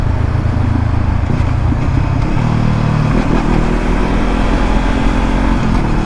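A motorcycle engine runs loud and close as the rider chops the throttle, its steady drone shifting pitch and dropping away midway through, over constant wind-like roar.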